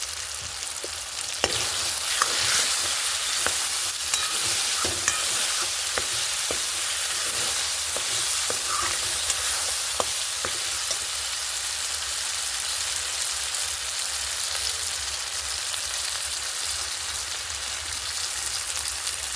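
Spices such as ground cumin sizzle and fry in hot oil while ghugni cooks, with a loud constant crackle and periodic scraping strokes of stirring, close up and without talk.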